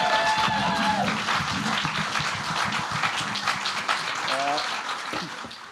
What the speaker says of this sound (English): Give yourselves a round of applause so I'm comfortable.